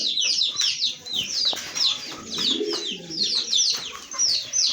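Low pigeon coos murmur beneath a busy chorus of high chirping birds, with occasional soft knocks and rustles nearby.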